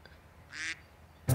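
Ducks in a park wetland give two short quacks, one in the middle and another sharper one at the end, fairly faint against a quiet outdoor background.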